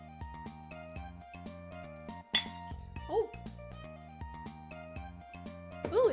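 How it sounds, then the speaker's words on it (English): A glass is struck once with a sharp bright clink, close and loud, standing out over quiet background music with some talking nearby. "Sorry for hitting the glass, guys."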